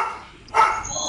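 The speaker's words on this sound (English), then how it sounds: "Got a dog barking." A dog barks once in a short, sharp burst partway through, fairly close, after a quiet stretch, with faint background noise around it.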